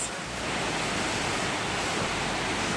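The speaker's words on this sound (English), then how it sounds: "this is just a waterfall" Amicalola Falls, a waterfall in Georgia's state park, roars as a steady, dense rush of falling water close by, filling the whole moment with broad noise and no voices.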